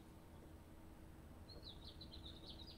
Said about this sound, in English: I'm sitting here listening to the bird song outside this window.